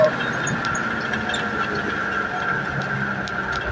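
An M35A2 military truck with a multifuel LDS engine and HX40W turbo swap runs steadily, a continuous droning engine note with a faint whine, close and even throughout with no pauses.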